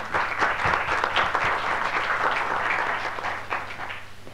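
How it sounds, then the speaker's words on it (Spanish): A conference audience applauds to welcome a panelist at a Latin American internet governance forum session, dense clapping with individual claps standing out, steady throughout and easing slightly toward the end, with a low hum beneath. "También lo recibimos con un aplauso."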